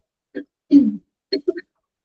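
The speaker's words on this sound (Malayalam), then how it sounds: "ചുമ വന്നിട്ട് ഭയങ്കര ബുദ്ധിമുട്ട്." A teacher coughs and clears her throat during a live online class, a few short bursts close to the mic with brief pauses between them and no talking.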